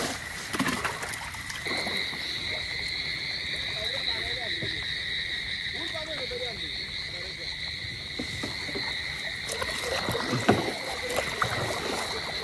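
A rowboat used for fishing on a flooded river in heavy rain, with soft water sounds around the boat beneath a steady, shrill drone of insects or frogs and occasional faint voices.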